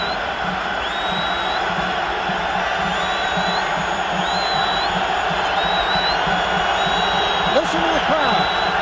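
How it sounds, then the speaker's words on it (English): A college football stadium crowd at a 2008 Boise State vs Bowling Green game roars continuously, a loud, sustained wash of cheering with occasional high whoops and whistles cutting through. "Listen to the crowd."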